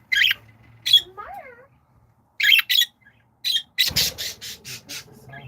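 Harsh bird squawks come in short bursts, some single and some in quick repeated runs, close and loud with quiet gaps between.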